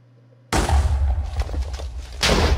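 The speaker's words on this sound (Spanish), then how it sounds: "Hace una explosión muy grande" A bomb from the More Explosives mod for Minecraft 1.6.2 detonates with a sudden loud blast after half a second of quiet, followed by a long rumbling roar and a second burst near the end.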